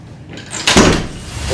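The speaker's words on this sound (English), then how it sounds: "Closing the door, which is original sound." A door swings shut nearby in one loud, sharp thud after a brief whooshing swing, followed by a lingering room rumble, recorded as original on-location sound for a travel film.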